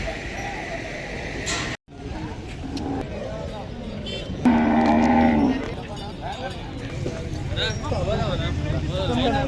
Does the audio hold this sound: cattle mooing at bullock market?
yes